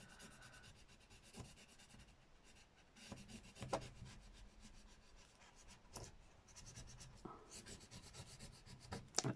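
Paper being rubbed by hand on a junk journal page, a quiet, close scratchy brushing in short irregular strokes with brief pauses between them.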